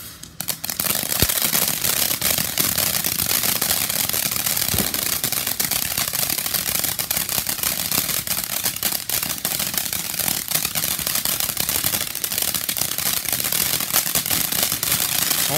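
Fourth of July fireworks grand finale in full swing: a dense, loud barrage of crackling and popping firecracker bursts going off in rapid succession for the entire stretch, with no voices heard.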